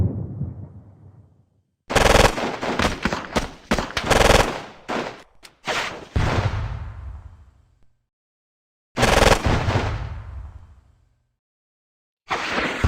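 Gunfire from the war game Squad Battles: Eagles Strike, loud bursts of rapid machine-gun fire in separate volleys with short silent gaps between them, each burst ringing out with a decaying tail.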